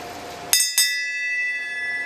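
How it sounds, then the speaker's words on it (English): A small metal bell gets two quick rings half a beat apart, each a bright strike. The clear tone rings on and slowly fades, loud and close, with no voices. "I'm going to ring the bell as is tradition."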